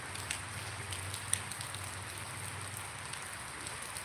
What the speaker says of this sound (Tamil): இங்கே இருக்கிற இடத்துல எப்படி மழை பெய்யுது